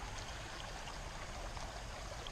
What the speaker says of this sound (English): The creek's actually right behind me